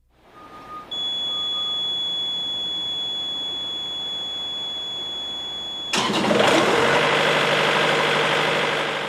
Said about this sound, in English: a 5-second buzzer will sound just before the engine cranks and the unit starts up automatically